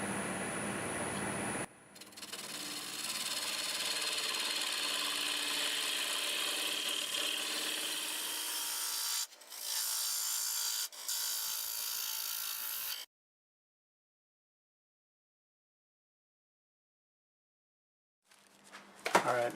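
Wood lathe spinning a sequoia vase at about 1100 RPM, a steady close whirring drone with brief scraping cuts, interrupted twice, then cut off into silence before a short restart at the end.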